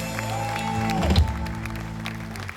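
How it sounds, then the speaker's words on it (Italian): An outdoor audience in Piazza Manzoni, Jesolo, applauds after an orchestra number, a steady wash of clapping from a crowd while sustained instrument tones and a few voices linger underneath. "Applauso meritatissimo Lorenzo Biondi"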